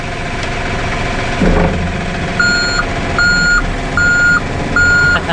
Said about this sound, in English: This is the truck mounted forklift.